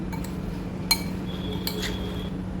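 A spoon stirs lemon juice into chilli pickle, giving a couple of light metallic clinks against the container over a steady low background hum, close and faint, with no talking.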